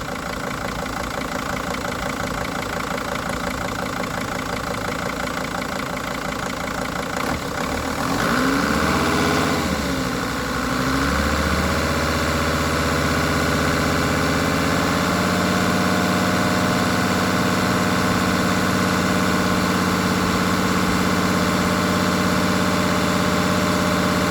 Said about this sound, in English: let's rev it up a little bit and see what happens